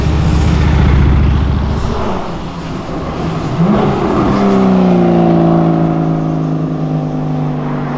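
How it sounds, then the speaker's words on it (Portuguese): A Lamborghini SVJ on a city avenue roars loudly and close by, with a deep engine growl and rapid downshift blips. Its pitch then climbs smoothly as it accelerates hard. "você consegue ouvir essas reduzidas do melhor jeito possível"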